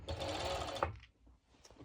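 A sewing machine stitches elastic onto a cover-up dress, a steady close mechanical whir for about a second before stopping, followed by faint handling sounds.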